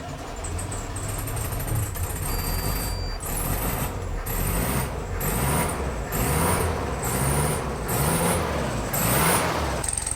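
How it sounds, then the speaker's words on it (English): A home-built VW Beetle engine turns over and catches, cranking in a steady repeating rhythm before it settles into a loud, close running idle with no talk. "Let's move back to see if we can start this car."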